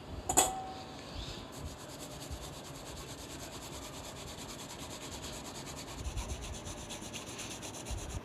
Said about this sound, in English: we're going to grate this very finely to get the juice